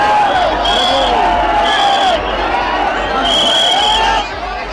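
A large, densely packed crowd gathers at a Shiv Mahapuran katha in Balod, Chhattisgarh. A steady, loud babble of many voices runs under an amplified voice that carries over the throng.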